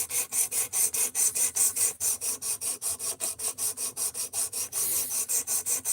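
A blade is sharpened on the 220 grit abrasive of an Ozark Trail sharpener: fast, even rasping strokes, about five per second, close and steady with no talk.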